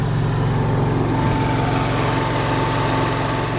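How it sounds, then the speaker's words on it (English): A steady, droning RV generator, a model 55G, runs close by with a constant hum and even engine buzz that never changes pitch or level throughout. "And as I mentioned, the generator is running."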